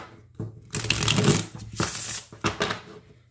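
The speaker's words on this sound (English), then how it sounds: "it does shuffle beautifully." A tarot deck is riffle-shuffled up close, with crisp bursts of flapping, ruffling card noise repeated several times in quick succession.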